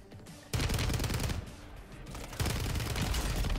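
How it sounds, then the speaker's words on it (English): Rapid automatic gunfire from an STG 44 rifle in Warzone on Rebirth Island, loud and close, pouring out in sustained bursts with a brief lull before firing resumes. "Yeah, I'm getting shot from fucking someone else, I swear."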